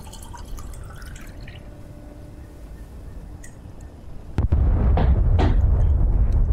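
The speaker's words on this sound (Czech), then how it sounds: "ja si iba nalievam vodu" Water poured out in the video game Fallout 76: a quiet ambient hum, then a sudden loud, splashing gush that starts partway through and continues to the end.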